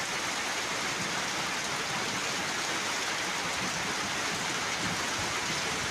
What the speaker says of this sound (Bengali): আর বিশেষ করে এই বৃষ্টিটা ধারাবাহিকভাবে রেগুলারই হচ্ছে ইদানিং।